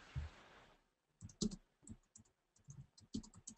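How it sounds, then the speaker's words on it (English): Clicky computer keyboard keystrokes tap out in irregular bursts over an online call, close by and fairly quiet, after a brief rush of noise at the start. "We can hear you typing."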